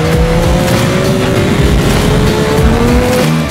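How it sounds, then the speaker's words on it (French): A Yamaha MT-09 motorcycle with an automatic gearbox accelerating hard for a wheelie, its engine droning loud and steady throughout with a shifting tone and heavy wind rush. "On va s'élancer, vitesse de croisière, on va couper gaz et mettre gaz."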